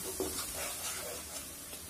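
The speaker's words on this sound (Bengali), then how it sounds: "এবারে মশলাটা ভালো করে কষানোর পালা।" Spice paste for winter vegetable khichuri sizzling and frying in a pan, a low steady hiss with soft stirring scrapes throughout, close and fairly quiet.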